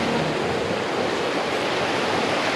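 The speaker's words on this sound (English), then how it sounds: "This, I think, is the Whiskey Rapids." Rushing whitewater of Whiskey Rapids in Muskoka pours in a dense, constant roar, close and loud, with no voices.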